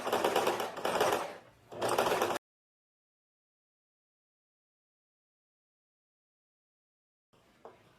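Sewing machine running a topstitch close to the seam of a short-sleeve shirt, three rapid loud bursts of stitching, then silence and a faint brief whir at the end.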